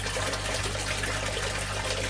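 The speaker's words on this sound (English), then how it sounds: "I'll top them up with fresh water." Fresh water pours steadily into a fish tank as it is topped up after draining, a continuous close splashing trickle with no pauses.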